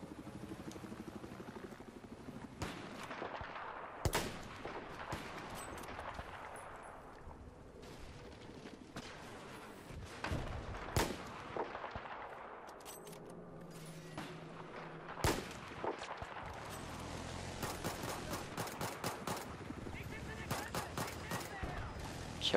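Rapid gunfire and explosions from a Battlefield 4 multiplayer match on Paracel, with bursts of automatic fire, heavy booms and a helicopter-like drone, dense and continuous throughout, mixed with faint game voices.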